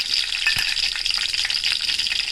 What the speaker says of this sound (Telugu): ఎల్లుల్లిపాయ వేసుకొని ఫ్రై చేసుకోవాలి.